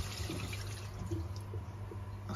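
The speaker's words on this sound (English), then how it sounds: "That's now stopped all the water flowing out." Water rushes steadily out of koi pond pipework through an open ball valve, a continuous gushing, trickling flow with occasional drips, heard up close.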